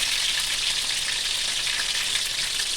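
Ginger paste frying in a pan for biryani with chicken, onion, green chilli and tomato gives a loud, steady, close hiss of sizzling oil that holds evenly throughout, with no voices.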